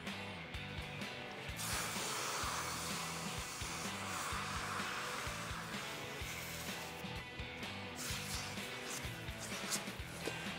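A brazing torch flame heats copper pipe with a continuous soft roaring hiss, fairly quiet and steady, with slight surges in intensity.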